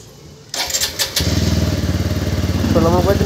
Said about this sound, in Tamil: ஸோ வண்டி இப்போ வந்து ஸ்டார்ட் பண்ணி பார்ப்போம்.